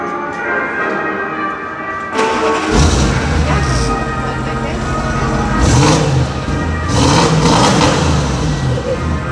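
A 2012-era Audi S8 D4 V8 cranks and fires, settling into a rumbling idle before two strong revs rise and fall, loud and close, with brief background voices.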